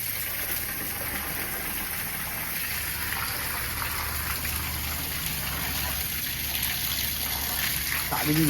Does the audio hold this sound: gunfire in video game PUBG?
no